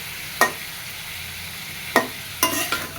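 Fish curry with turmeric and salt is stirred in a pan. Three spatula scrapes punctuate a steady low sizzle, close and moderately loud, with no voices.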